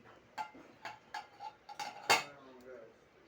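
Serving fried brinjal onto a plate produces a series of light, sharp clinks and taps of utensil against dishes, about seven close strikes over a few seconds, one louder than the rest.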